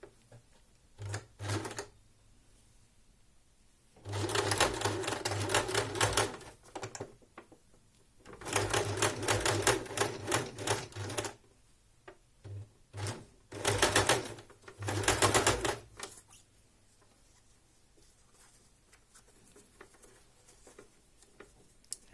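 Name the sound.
sewing machine stitching fabric for a face mask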